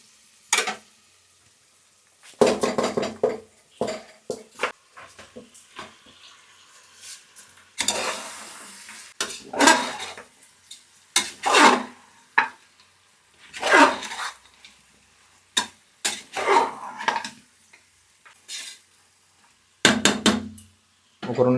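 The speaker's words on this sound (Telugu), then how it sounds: "ఇప్పుడు కలిపి పెట్టుకున్న తలకాయ కూర వేద్దాం." Goat head curry meat, village style, drops into a hot pan and gets stirred, with bursts of sizzling and scraping of a ladle against the pan coming in uneven clusters and short pauses between them.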